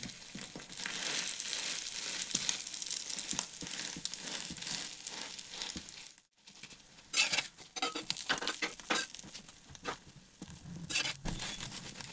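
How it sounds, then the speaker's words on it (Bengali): Egg-dipped bread toast frying in a pan, a crackling sizzle with brief pauses and bursts of spatula handling and crisp popping. "ভালো করে চারিদিকটি ভেজে নিচ্ছি।"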